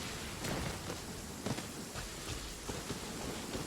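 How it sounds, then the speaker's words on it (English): Steady rain falls in the video game Genshin Impact, a constant soft hiss with scattered louder drops and faint thuds, heard alone at low volume. "Luckily it's raining, so fire doesn't do too much."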